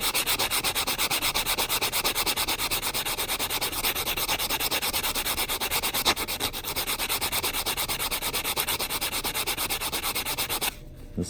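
A nail file board sands the rough cut edge of a coin ring with a steady, close, continuous scratchy rubbing that holds even in loudness and breaks off just before the end.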